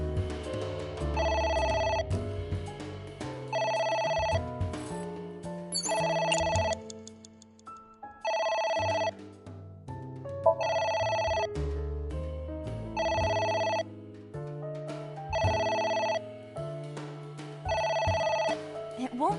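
Telephone ringing in the game AI: The Somnium Files, a repeating electronic ring in regular bursts with short gaps, over soft background music and a voice talking in between.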